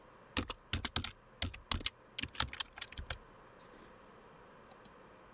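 Password being typed on a computer keyboard while setting up a wallet: a quick run of sharp, close key clicks in uneven bursts, pausing, then two final taps.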